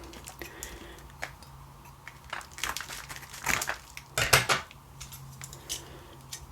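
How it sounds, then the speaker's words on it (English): Rustling and crinkling as an eBay delivery package of Maxell MD80 minidiscs is unwrapped, with irregular crackles and a few louder crumpling bursts up close in a quiet room. "I've got another delivery from eBay to unwrap."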